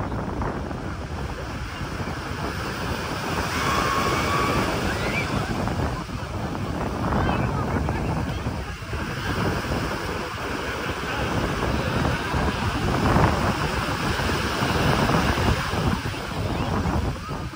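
Sea waves washing onto a beach in steady rolling surges, mixed with wind buffeting the microphone and faint distant voices.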